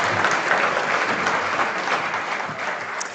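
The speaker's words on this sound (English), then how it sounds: "Let's give them another round of applause." Conference audience gives sustained applause to panelists and a moderator at an oil and gas event, a thick, even roar of many clapping hands lasting the whole stretch.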